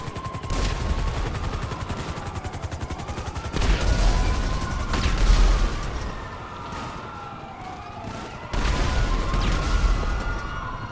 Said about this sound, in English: He's got a pistol that shoots explosions.